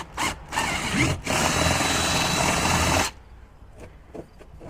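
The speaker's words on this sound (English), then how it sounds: "All right, I'm back with a bigger drill, as you can see." A loud, large power drill whirs steadily for about three seconds after a couple of short bursts while installing a backup camera, then stops, leaving faint handling noises.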